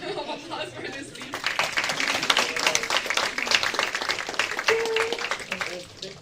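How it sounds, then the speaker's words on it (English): An audience at a live event gives a round of applause after a speech, with steady, close clapping and voices and laughter mixed in throughout. "One more round of applause for this speech."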